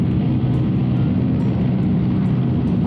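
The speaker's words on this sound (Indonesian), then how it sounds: "Ada suara pesawat ya." An airplane drones overhead in the Rules of Survival battle royale game, a steady low rumble holding throughout with no breaks and no talk.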